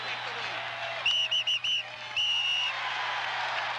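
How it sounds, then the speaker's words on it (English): A fan in the crowd at Veterans Stadium during a 1980 Phillies baseball game blows a whistle, giving four short, loud blasts and then one longer blast over a steady crowd murmur. "Get that whistle out of here,"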